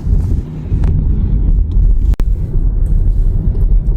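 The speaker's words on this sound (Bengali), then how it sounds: "আসলে আবহাওয়া খারাপ থাকলে আরও সমুদ্রের পাশে আরও বাতাস বেশি থাকে" Strong wind buffets the microphone beside the sea in bad weather, a steady loud low roar with gusty swells and a brief sharp dropout partway through, no voices.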